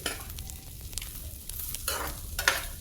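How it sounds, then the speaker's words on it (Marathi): Corn kernels sizzle softly in melted butter in a pan while a spoon stirs and scrapes them, with a few louder scraping bursts near the end. "आधी आपण बटर टाकले, त्याच्यामध्ये आता कॉर्न टाकले."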